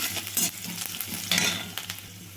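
Chopped garlic and ginger sizzle in hot oil with mustard seeds, with a steady crackling hiss and a few scraping stirs of a spoon in the pan, close and fairly loud, with no voices.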